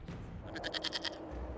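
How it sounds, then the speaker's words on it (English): Goat in Dragon Age: Inquisition giving a short, quavering bleat of several pulsed notes, clear and moderately near over faint background ambience. "we discovered this man attacking the building with a"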